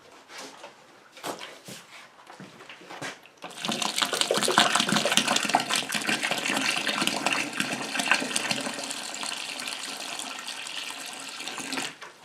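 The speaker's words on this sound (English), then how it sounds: "So let me just add a little bit of cool water." Cool water poured into a pan of hot sugar for banana rum, starting after a few quiet knocks as a loud, steady rushing pour that holds on close by for several seconds.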